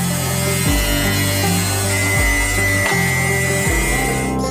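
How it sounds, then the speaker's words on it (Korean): An angle grinder cuts sheet metal in a fabrication shop, a loud continuous whining drone that shifts pitch several times as the disc bites and eases, with a thin high ringing tone through the middle. "그라인더를 사용해서 구부려야 할 부분을 자르고"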